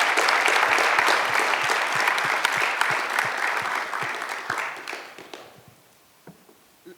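Audience applause at an evening menswear panel welcoming the panelists, dense steady clapping from a crowd that thins and fades out over the final two seconds.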